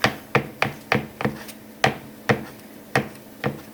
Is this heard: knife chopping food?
yes